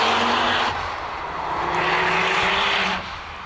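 Ford Focus RS engine revving under acceleration while driving, a loud, sustained drone that rises and falls in pitch.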